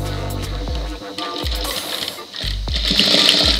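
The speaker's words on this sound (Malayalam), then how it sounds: "ഈ തുണിയുടെ മുകളിൽ കൂടെ വേണം സ്റ്റിച്ച് ചെയ്യാൻ." A sewing machine stitching a blouse hem, bursts of rapid mechanical whirring separated by short stops and clicks, close and loud.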